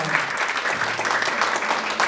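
Audience members at a youth counselling centre's annual report event break into applause, brisk overlapping claps filling the room with a faint voice underneath.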